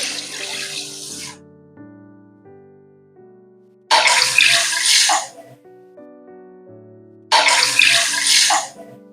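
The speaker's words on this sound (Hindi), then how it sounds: "3 कप पानी डालेंगे।" Water pours into a cooking pan of moong dal in three separate bursts, each a loud splashing gush lasting about a second, with soft musical tones playing in the gaps between.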